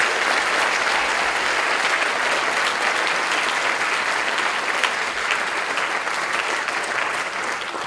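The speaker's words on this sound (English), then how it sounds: "Please give them one more round of applause." Loud, sustained audience applause for inductees at a 2021 Wauseon high school Academic Hall of Fame ceremony, steady clapping filling the whole stretch with no voices over it.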